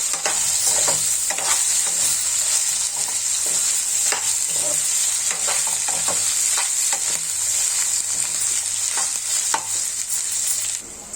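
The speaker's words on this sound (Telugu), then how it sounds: "ఇప్పుడు అంతా ఒకసారి మిక్స్ చేసేసుకోవాలండి" Bitter gourd masala frying in a pan, a loud, continuous hiss of sizzling oil close up, broken by frequent spoon scrapes and taps as it is stirred, with no voices.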